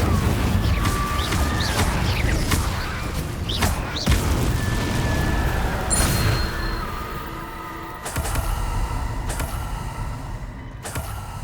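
Incendio fire spells are cast repeatedly in the video game Hogwarts Legacy, with several booming whooshes and bright magical bursts among game effects and a low rumbling backdrop.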